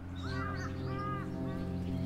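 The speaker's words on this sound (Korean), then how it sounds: "그런 새들이 많이 모여서 뭔가 잔치를 벌리고 있는 그런 느낌의" Birds call in a Tongyeong camellia forest in spring, a few harsh, crow-like caws rising over a steady low hum, close and fairly clear.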